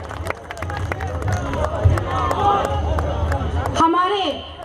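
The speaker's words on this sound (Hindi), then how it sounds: "तालियों की गड़गड़ाहट के साथ उनका स्वागत होना चाहिए भाइयों।" An audience claps to welcome a guest onto the stage at a tribal community event. Scattered claps mix with loud crowd chatter, and a voice cuts in near the end.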